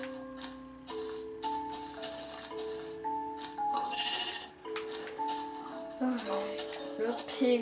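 Sheep in the Xbox edition of Minecraft bleat several times in short, wavering calls spread over steady game background sounds, fairly close and clear.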